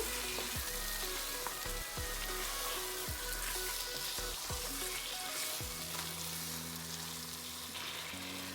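Chicken pieces fry in oil spiced with bay leaves, cardamom and cloves for korma, a steady hiss with periodic dull knocks of stirring against the pan, no voices.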